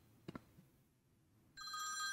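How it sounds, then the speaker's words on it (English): A telephone rings inside a horror-style indie video game, starting abruptly after a couple of faint thumps and holding as a loud, bright electronic trill with no talking. "Let's go answer the phone."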